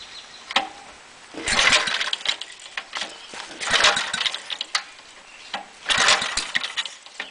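Small gasoline engine being pulled over with the choke on at about half throttle, three rasping bursts of cranking at an even pace, close, with quiet gaps between pulls.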